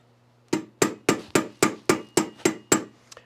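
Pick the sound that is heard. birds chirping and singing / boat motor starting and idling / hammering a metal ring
hammering a metal ring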